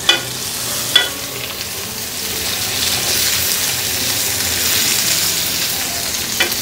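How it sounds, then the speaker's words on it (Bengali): Carrot pieces and green capsicum stir-fry in a hot pan for vegetable fried rice, with a steady broad sizzle and a few sharp utensil clinks against the pan near the start and end. "গাজরটা ভাজা শেষ, এর সাথে দিয়ে দিচ্ছি এখন সবুজ ক্যাপসিকাম।"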